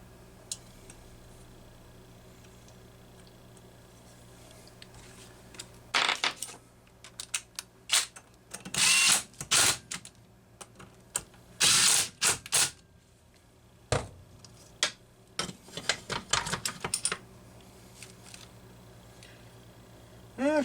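A flywheel screen being refitted on a Homelite XP-1020 chainsaw, heard as quiet scattered clicks and sharp taps of metal and plastic parts, with some clustered clatter in the middle and long near-silent gaps between them.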